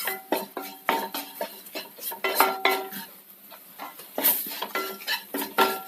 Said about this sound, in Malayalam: ചെറുതീയിൽ വെച്ച് തന്നെ ഇതൊന്ന് വഴറ്റാം.